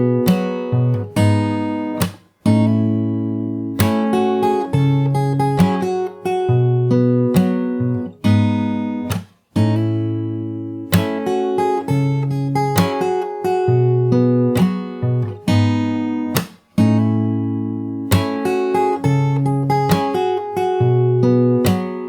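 Fingerstyle acoustic guitar plays the bridge of a song, with steady plucked chords and melody notes ringing loud and close, broken by brief pauses between phrases, no voices.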